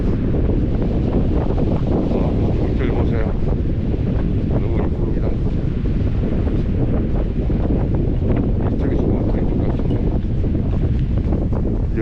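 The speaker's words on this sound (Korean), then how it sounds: "아 바람이 많이 부니까" Strong wind buffeting the microphone on a seaside island coast near a heart-shaped beach, a steady roaring rush with waves washing beneath, continuous and loud.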